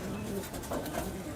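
A male Kaldum pigeon coos softly and briefly close by, its low murmuring under a busy, noisy background.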